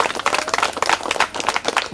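An audience at a tailoring certificate distribution event claps together, a dense, steady patter of applause heard close by for a couple of seconds.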